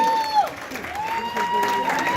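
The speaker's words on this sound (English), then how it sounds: "Please keep the applause going." Audience applause for a professor at a Teachers' Day felicitation, a steady wash of clapping from a crowded hall with voices mixed in.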